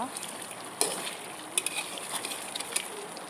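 Meat and pointed gourd (potol) fry steadily in a pan, giving a continuous crackling sizzle while being stirred, with a few scraping clicks from the utensil along the way.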